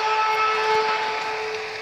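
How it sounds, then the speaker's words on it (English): A steady horn-like siren drones through a crowd's roar at the end of a Cape Town rugby sevens match between Australia and Portugal, holding two level tones for about two seconds. "And the siren sounds."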